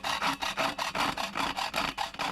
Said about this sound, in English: which I just use the old faithful hacksaw